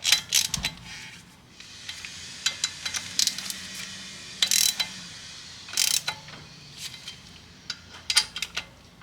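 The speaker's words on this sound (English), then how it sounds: "And you just tighten this one by one." Ratchet tightening brake caliper bolts one by one on a 2007 Toyota Highlander Hybrid during front rotor and brake pad replacement, giving bursts of quick metallic clicking separated by short pauses, close and fairly loud.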